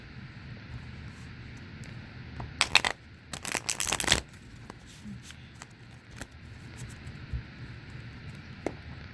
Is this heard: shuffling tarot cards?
yes